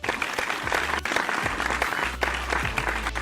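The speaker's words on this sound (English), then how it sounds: "One more little round of applause, everybody." Applause from an audience at a design awards ceremony, a brisk crackle of many hands clapping throughout at moderate level, with a few sharper individual claps standing out.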